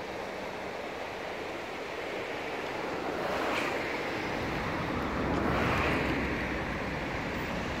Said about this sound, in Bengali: নদীর জলপ্রবাহের শব্দ